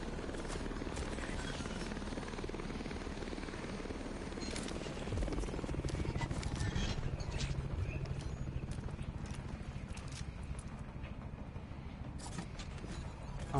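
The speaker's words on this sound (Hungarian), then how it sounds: "Te a helikopter most tényleg elment?" A helicopter in the video game The Division, a steady rotor thrum with rattling, choppy pulses that grows somewhat louder midway and then holds under other game noise.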